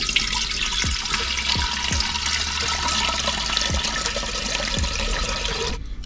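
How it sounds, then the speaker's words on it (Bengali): Water is poured into a cooking pot for rice, a steady rushing splash of liquid that runs continuously for about six seconds before stopping abruptly, close and fairly loud with no talking. "দিয়ে দিচ্ছি জল,"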